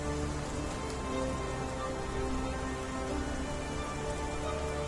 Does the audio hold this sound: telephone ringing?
no